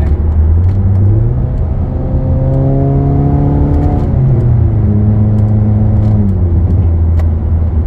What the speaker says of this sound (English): You can hear the noise from the intake for sure